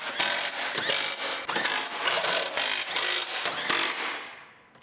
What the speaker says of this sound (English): And start bolting it in.